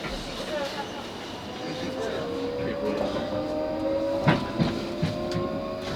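A South Western Railway Class 458 electric train runs near Barnes Bridge, heard on board as a steady rumble with rising motor whine and a few sharp rail clacks, at moderate loudness.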